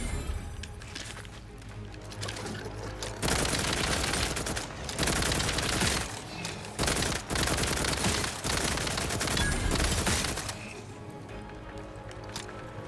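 Sustained bursts of assault rifle fire from the video game The Outer Worlds 2, loud rapid automatic shots in several long volleys with brief pauses between them.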